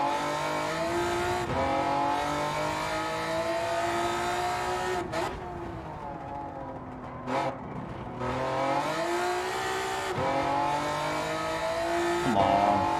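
A Honda NSX in Gran Turismo 7 roars around the Nordschleife, its engine loud and close, revving up through the gears with brief dips at shifts and braking before climbing again.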